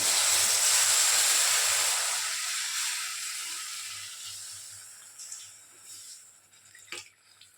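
Milk poured into roasted semolina in a hot pan for custard apple halva, a loud bright hiss that slowly fades over several seconds, followed by quieter stirring scrapes.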